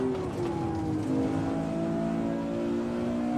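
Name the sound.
car driving in video game Assetto Corsa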